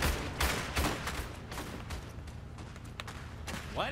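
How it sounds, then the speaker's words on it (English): Enemy rifle fire in Iron Harvest, a ragged volley of overlapping shots and thuds in a dense battle din, with a few distinct sharper cracks toward the end. "Enemies yonder. They're shooting at us."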